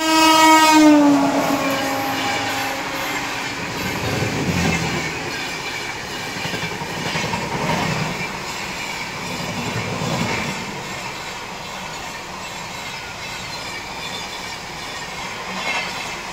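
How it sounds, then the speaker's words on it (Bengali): An express train passes a stopped special train at a station: a loud horn blast opens, then a long rumbling roll of wagons with clattering wheels and some squeal, close and sustained. "কারণ আমাদেরকে ওভারটেক না, পাস করতে চলেছে একটি এক্সপ্রেস ট্রেন"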